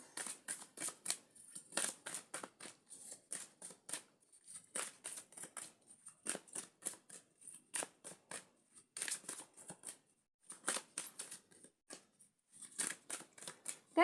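Tarot cards being shuffled and handled close up, with repeated quick papery flicks and riffles in uneven bursts and short pauses between them, and no talking.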